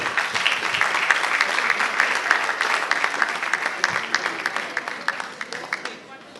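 Sustained audience applause at a sports awards ceremony honoring athletes and officials, a dense wash of many hands clapping that thins out toward the end into scattered individual claps.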